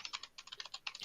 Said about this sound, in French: C'est un clavier qui fait du bruit.